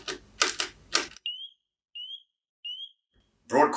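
Three short high-pitched beeps from an alarm device, evenly spaced after a stretch of speech, with more talk resuming at the end.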